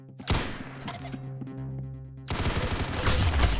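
Gunfire rings out in the shooter game Arsenal, starting with a sharp shot and then a rapid burst of automatic fire. Humming background tones sit under the shots, and a dense, loud rattle follows.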